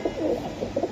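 A pigeon being sold at a market gives a short, soft throaty coo in two quick pulses, close by and alone.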